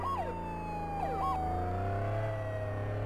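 An ambulance siren in the emergency-services game Flashing Lights wails in repeated rising and falling sweeps over a steady low engine rumble, loud and close throughout.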